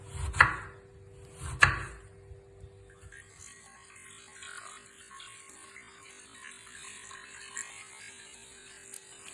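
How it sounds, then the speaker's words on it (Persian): Potatoes chopped into rings for a crispy tahdig under barberry rice with chicken: two sharp knife chops land early, then only a faint hum and quiet kitchen noise remain. "اول سیب زمینی ها رو حلقه‌ای خورد کردم"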